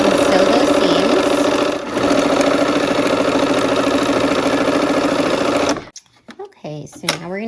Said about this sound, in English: let's go ahead and sew those seams